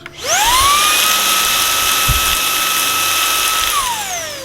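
A Shark Wandvac cordless vacuum spins up to a loud, high steady whine, holds it close for a few seconds with a brief knock of rattling debris inside, then winds down.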